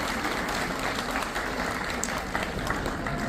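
Audiences at a playschool annual day applaud a child, with dense, steady clapping from a sizeable crowd filling the hall for a few seconds without pause.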